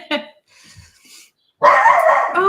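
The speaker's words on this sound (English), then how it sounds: "I apologise for the dog." A dog gives a short yelp, then after a pause breaks into a loud, sustained run of barking and whining that lasts to the end, close by.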